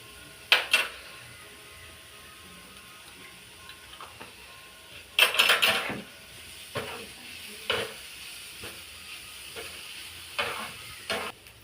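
Pieces of papaya fry in a spoonful of ghee in a pan, giving a soft low sizzle broken by sharp bursts of stirring and spatter, close and without talk.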